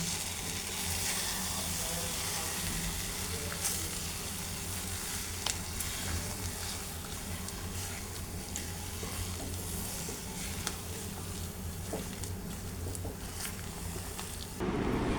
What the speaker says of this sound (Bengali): এটা আমি এখন ভালো করে মিক্স করে নেব